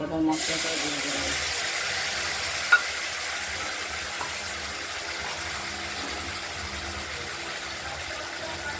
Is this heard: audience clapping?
no